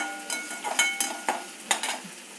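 Peppercorns and urad dal dry-roast in a pan while a spoon stirs them, giving close, crisp scraping strokes in an uneven rhythm over a faint sizzle.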